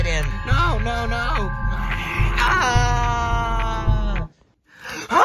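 A drawn-out, wavering scream of someone waking from a nightmare, loud and close, rising and falling in pitch for about four seconds before breaking off, followed by a brief gasp.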